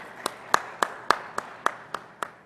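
An audience claps for a speaker invited on stage at an infrastructure conference, but only as eight sharp, evenly spaced claps about a third of a second apart, a single pair of hands, not a crowd.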